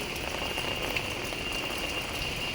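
Steady, even rainfall hissing throughout, a constant wash of drops with no voices.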